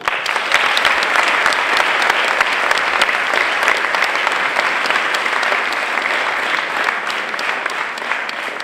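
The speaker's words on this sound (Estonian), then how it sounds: "nii et aplaus!" A crowd applauds steadily, dense clapping sustained throughout and slowly tapering toward the end.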